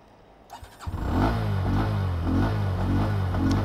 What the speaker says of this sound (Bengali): চলুন তাহলে বাইকটা আবার স্টার্ট করছি